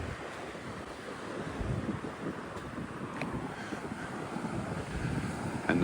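Wind and surf along a sandy beach on the Great South West Walk near Portland: a steady broad rush of waves and gusting wind buffeting the microphone, moderately loud and continuous with no talking.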